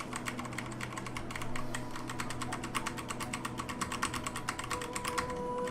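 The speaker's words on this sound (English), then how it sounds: "I wasn't looking at what key I was pressing." Computer keyboard keys clatter in a fast, continuous stream of clicks while a Dear Esther speedrun is played, close and fairly quiet, with no voices.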